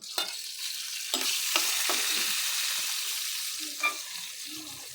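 Dried vegetables tumble into onions frying with salt in a pan and are stirred, a steady sizzle broken by several sharp scraping clacks of the spoon, close and fairly loud with no talking.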